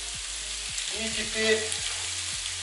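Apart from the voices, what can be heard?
finely chopped meat frying in a hot pan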